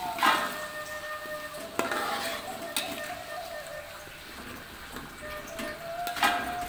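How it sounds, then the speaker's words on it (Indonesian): Chili paste cooking in a pan for taro chip balado, a soft continuous sizzle with scattered clicks and taps of a utensil against the pan, fairly quiet and close. "Kita masak cabenya hingga matang ya sana."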